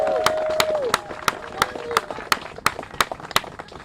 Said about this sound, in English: can we just give a hand clap for our nurses today? Can we cheer for them today?